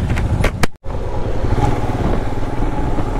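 A Royal Enfield Himalayan motorcycle engine, freshly serviced, runs loud and close with a steady thumping note, broken by a brief sharp dropout before the engine sound carries on evenly.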